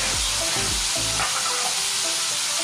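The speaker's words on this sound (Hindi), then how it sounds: "तेल गर्म हो चुका है तो इसमें डालेंगे अभी ये सिल्कोम्स" Silkworms hit hot oil with turmeric in a pan and give a loud, steady, close sizzling hiss, with a few low knocks of stirring at the start and no talking.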